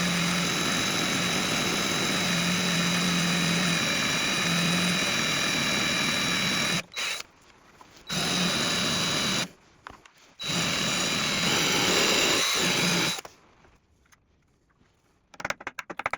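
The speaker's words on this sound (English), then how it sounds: "I'm going to drill through, tap into the bolt and then extract it out." A power drill whines steadily and loudly, drilling through a seized bolt on an old Ducati, stopping briefly a few times before starting again, then falling quiet near the end.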